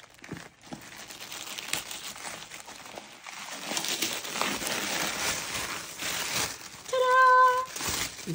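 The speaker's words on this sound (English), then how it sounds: "Okay, so a lot of pink tissue paper" Pink tissue paper crinkles and rustles while a Starbucks 2024 planner is unboxed, continuous close handling noise with a brief meow-like tone near the end.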